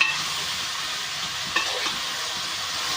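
Chopped onions fry and are stirred in a pan for a mango and raw prawn curry, giving a steady close sizzle with a brief scrape of the spoon partway through.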